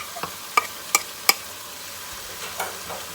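A soft background sizzle of garlic and ginger paste frying in a pan for mutton kabsa, with a few sharp scraping and clinking strokes from stirring, close by.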